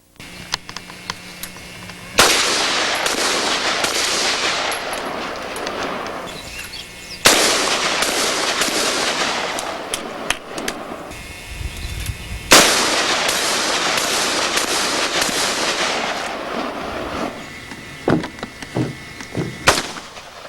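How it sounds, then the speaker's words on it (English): Ruger Mini 14 Scout rifle fired at various targets outdoors, with three long loud bursts of rapid shots at close range, separated by short gaps and ending in several isolated single reports. "here is Tom Wombles shooting the Mini 14 Scout rifle at various targets"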